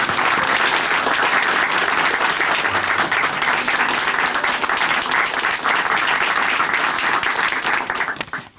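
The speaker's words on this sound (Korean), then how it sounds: "우리 함께 박수로 축하해드리겠습니다." A church congregation applauds in congratulation after a testimony program, with sustained, dense clapping that stays loud and steady before tapering off at the end.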